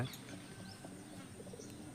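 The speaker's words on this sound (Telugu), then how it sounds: "అటు ఇంకా చాలా ఉన్నాయి అన్నమాట ఇళ్ళ పైన పావురాలు" Pigeons on the rooftops of village houses give faint, soft coos and a few small chirps against quiet outdoor background noise.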